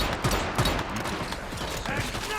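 Sniper rifle gunfire in a video game sounds as a few sharp, spaced cracks over a busy, dense backdrop of game noise, fairly close and moderately loud.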